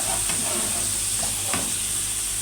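Potatoes and eggplant frying in hot oil, a steady bright sizzle with a few soft scrapes and clinks as pieces are lifted out of the pan.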